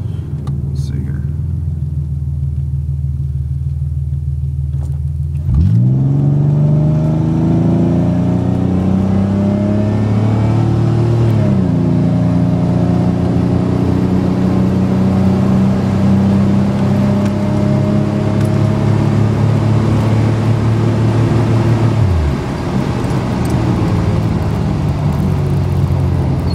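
Pontiac 6000 with a Dynamax performance muffler and K&N air intake idles, then revs hard and accelerates through rising gear pulls, a loud, steady engine roar with shifts and a drop near the end.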